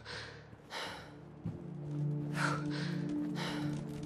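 A character in Fallout 4 VR, low on stamina, pants in several short, breathy gasps spaced about a second apart, with a low background hum beneath.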